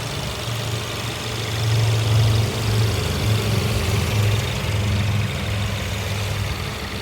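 A 2017 Ford Edge SEL engine idles steadily nearby, a smooth low hum and whir holding at an even level throughout with no other sounds.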